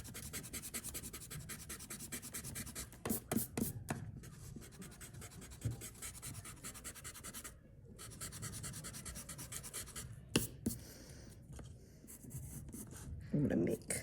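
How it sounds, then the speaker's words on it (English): Pencil guidelines rubbed out on paper with an eraser, a faint close scrubbing and rasping that comes in quick repeated strokes with brief pauses, and a voice talks over part of it. "now I'm going to erase the guidelines that I drew on the inside"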